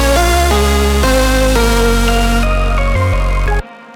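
Clipped, deliberately distorted synth bass for a drum and bass track, heard soloed: loud, buzzy sustained notes that change pitch every half second or so, with one brief dropout near the end before it cuts to silence.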